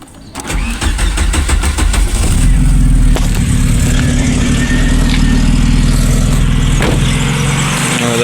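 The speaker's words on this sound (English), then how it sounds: "Cold start." A VW Polo Classic engine cold-starts with a short crank, then settles into a loud, steady, close-up idle that holds a constant low rumble for several seconds.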